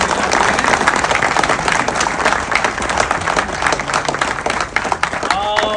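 Audience at a Gujarati film premiere night breaks into loud sustained applause, dense clapping from a crowd filling the room, with voices and cheers mixed in.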